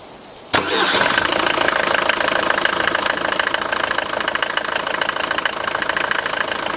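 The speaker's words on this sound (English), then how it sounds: "we're gonna try to start the engine until we see gas oil coming through here" A Mercedes-Benz W124 diesel, just back from a Bosch injector pump fuel-leak repair, cranks briefly and fires, then settles into a loud, rattling idle with a steady clattering knock, close up and without talk.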